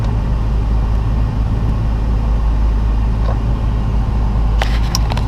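Car riding on stiff SR coilover suspension over a bumpy road, a loud steady low rumble of road and engine noise fills the cabin throughout, with a few faint clicks and rattles near the end.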